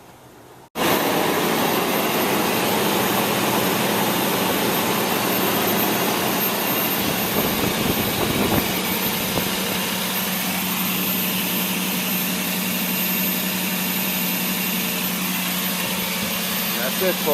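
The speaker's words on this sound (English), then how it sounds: "I'm about to crank it over, and you'll get to see the end result of my timing belt change." A Toyota RAV4 engine, freshly fitted with a new timing belt, cranks briefly and catches, then settles into a steady, loud, even idle with a constant hum that continues for the rest of the stretch.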